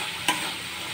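Potatoes with salt and turmeric are stirred in a frying pan over a steady sizzle, with one short scrape of the spoon against the pan.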